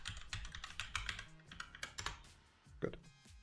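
Keys clatter in quick irregular bursts as a password is typed on a computer keyboard, close and fairly faint, with a pause and one sharper stroke near the end.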